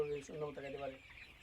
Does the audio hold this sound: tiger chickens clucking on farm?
yes